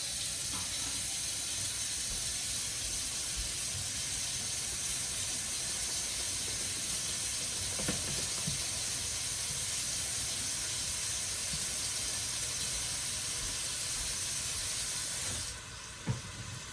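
Bacon frying in a pan for lentil soup with chicken, giving off a steady, even hiss and sizzle that runs unbroken for several seconds, with a faint clink near the end.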